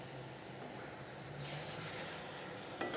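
Smash burger patties sizzle loudly on a hot griddle, browning and caramelizing with added maple syrup, a steady broadband hiss that swells partway through, with a brief clatter near the end.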